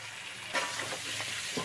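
Katla fish head and potatoes sizzle loudly while being stir-fried in a pan, a constant bright frying hiss with a couple of sharper stirring scrapes and no voices.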